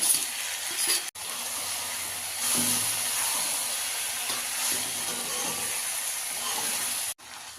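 Fish head pieces for a fish head curry sizzle loudly in a hot pan, a steady close hiss of frying that carries on with two brief cut-outs.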